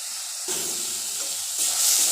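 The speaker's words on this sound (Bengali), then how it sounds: "পেঁয়াজটা একটু ভাজা হতে দিব।" Sliced onion sizzles in hot oil in a pan, a steady crackling hiss that swells louder in two steps, with no talking.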